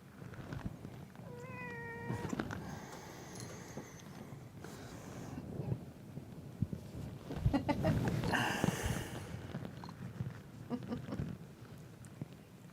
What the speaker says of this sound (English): There's a cat on it.